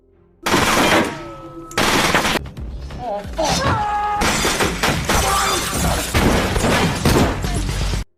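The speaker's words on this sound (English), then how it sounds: "After that there was a shootout between the young and the old." Loud bursts of gunfire and shattering glass crash through a film shootout between young and old men, arriving in dense volleys with brief pauses and ringing impacts, and voices can be heard among the clatter.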